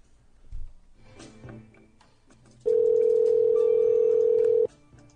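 A telephone call goes unanswered, with a single steady ringback tone lasting about two seconds after some quiet background rustling.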